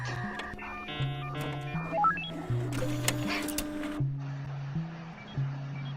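An in-game printer machine in Roblox Animal Hospital runs with a series of synthetic electronic tones, stepped beeps and a brief mechanical whirring burst, played close and clear with no talking.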